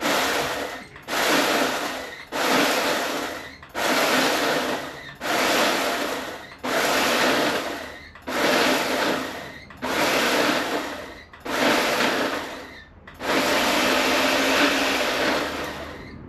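A blender pulsing a spice blend, loud bursts of motor whir of about a second each with brief gaps, repeated eight times before a longer final run.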